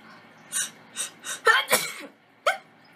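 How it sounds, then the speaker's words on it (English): A person sneezes and coughs in a short burst sequence: several sharp, separate explosive expulsions, with one strong double burst in the middle and a final one after a pause, close and loud. "And I'm fixing to sneeze."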